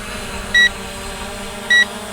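Two short, bright electronic beeps about a second apart come from a ZLRC SG906 Pro drone just after takeoff, heard over a steady low hum of background noise.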